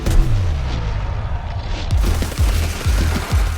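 Monte Carlo exotic weapon firing in the video game Destiny 2, a string of heavy booming gunshots with a deep low thump each, spaced roughly half a second apart and loud throughout.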